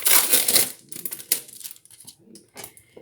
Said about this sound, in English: we're going to cut up some grape tomatoes